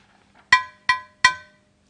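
A glass vase struck three times at an even pace, each tap a bright, ringing clink that fades quickly, close by and alone in silence.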